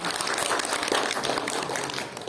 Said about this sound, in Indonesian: Tepuk tangan dong buat kota Batu